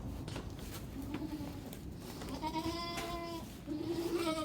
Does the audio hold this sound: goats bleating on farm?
yes